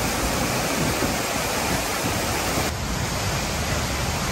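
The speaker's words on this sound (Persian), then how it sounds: "آبشار شاهاندشت با ارتفاع 51 متر بزرگترین آبشار استان مازندرانه" Shahandasht waterfall in Mazandaran, Iran, a 51-metre fall: steady, dense broadband roar of falling water, continuous and loud with no breaks.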